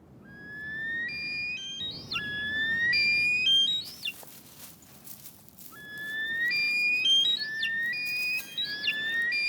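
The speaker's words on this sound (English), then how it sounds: "The cocks outgun one another in a resounding crescendo that is carried for miles." Caucasian snowcocks in the Lesser Caucasus mountains calling in a territorial song contest, loud rising whistled phrases repeating in bursts and overlapping, ringing out across open slopes with no talk.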